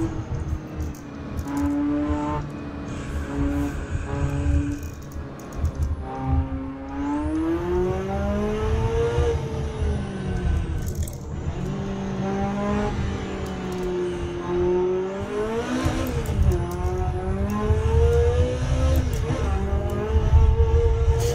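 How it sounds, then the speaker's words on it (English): A screaming Ferrari engine in a racing game, loud and close, revving up and down through repeated gear changes with rising and falling pitch for about twenty seconds. "Something about that screaming Ferrari engine, though."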